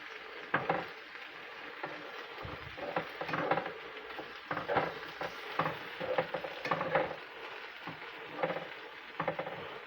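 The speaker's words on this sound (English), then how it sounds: "Stir it around." Ramen and rice are stirred in a pan, with a spatula scraping and clicking in irregular strokes over a soft sizzle of frying, close and fairly quiet, with no voices.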